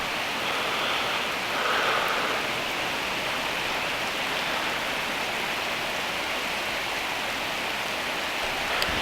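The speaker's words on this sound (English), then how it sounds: "Boy, it's raining now." Steady rain falls at a riverside camp during a backpacking trip, a dense, even hiss of drops on the surface lasting throughout, fairly loud and close, with no voices.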